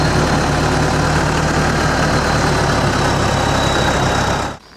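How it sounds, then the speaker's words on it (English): A farm tractor engine runs loud and steady with a deep continuous rumble close by, then cuts off abruptly at the end. "Dad's bringing them in right now on the tractor"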